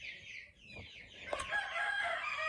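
Homestead chickens cluck close by while a rooster crows, in a farmyard also kept with goats; a short burst of overlapping fowl calls rising into a loud crow.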